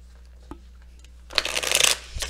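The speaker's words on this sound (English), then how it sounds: "I'm just going to give these a couple more shuffles." A deck of tarot cards riffles in one quick, crisp burst, close up and brief, after a faint tap and a low steady hum.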